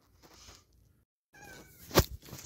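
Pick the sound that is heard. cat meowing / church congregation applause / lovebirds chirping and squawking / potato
cat meowing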